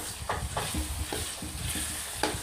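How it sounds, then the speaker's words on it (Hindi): Tomatoes and chicken mince stirred and fried together in a pan for spicy chicken qeema, with a steady close sizzle and repeated scraping strokes of a spoon at an even rhythm. "टमाटरों को डाल के अच्छे से भून लें।"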